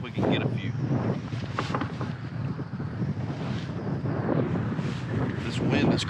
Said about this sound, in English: the wind is just crazy out here